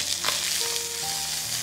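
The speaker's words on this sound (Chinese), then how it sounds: "锅热倒油，鱼肉给它下锅。" A fillet of albino giant grouper pan-fries in hot oil, making a steady, close, crackling sizzle with faint tonal kitchen hum underneath and no voices.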